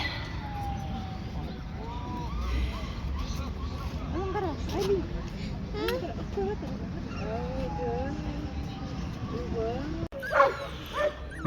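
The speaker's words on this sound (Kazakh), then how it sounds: "Мінекей, сол күшіктерге тап болдық." Puppies at a livestock and poultry bazaar yip and whimper in thin, high, wavering cries, repeated close by amid crowd noise, with people talking throughout.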